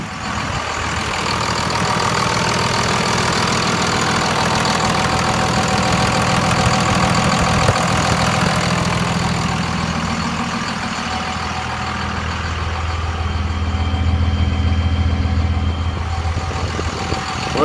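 A 2001 Dodge Ram 3500 flatbed with a 5.9 Cummins diesel idles steadily with a loud, continuous low rumble and a faint ticking knock throughout, with no talking.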